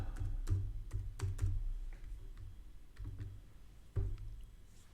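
Keys clatter on a computer keyboard as a word is typed into a search box, a quick near burst of clicks followed by sparser single taps, quiet and alone.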